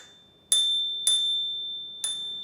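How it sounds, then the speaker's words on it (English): A small wrap-around metal dinger bell on a Mokwheel Tarmac ST hybrid commuter ebike rings three times, each bright, close ping ringing on with a long sustained decay, the last strike after a short pause. "I didn't show you guys a little dinger bell. I've never seen one like this. It's just like a piece of metal that wraps around."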